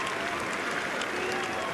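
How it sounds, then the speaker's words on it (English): Crowd applause and cheering as a standing ovation for tennis player Tim Henman after a 2003 Paris quarterfinal, a dense, steady wash of clapping from the stands throughout. "Hats off to Henman, a standing ovation from those fans in the crowd who came to see him through."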